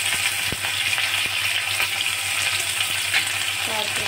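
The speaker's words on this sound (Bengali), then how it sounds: "এগুলো ভাজা হয়ে গেল। এখন দিব আমি পেঁয়াজ" Onions fry in hot oil with cumin and black cumin, giving a loud, dense sizzle broken by scattered spatters and scraping stirs, close up and steady without speech.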